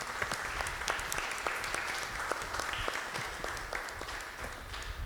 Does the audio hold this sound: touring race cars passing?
no